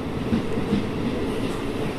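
A Vijayawada to Rajahmundry passenger train runs steadily, with continuous rumbling wheel and carriage noise heard from onboard and no voices.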